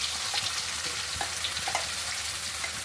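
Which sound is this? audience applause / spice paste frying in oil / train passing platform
spice paste frying in oil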